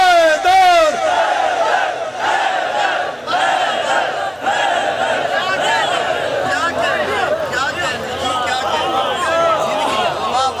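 A large crowd at an Urdu qasida recital honouring Imam Raza shouts "Haider" together in loud, sustained collective cries, voices rising and overlapping over several seconds with steady crowd noise throughout.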